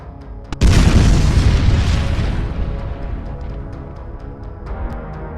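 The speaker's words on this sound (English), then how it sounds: "the Russian tank was destroyed with a heavy anti-tank guided missile" A Russian T-80 tank destroyed by a BGM-71 TOW anti-tank guided missile: a small pop, then a massive, close blast that rolls into a long, deep rumbling decay fading over several seconds.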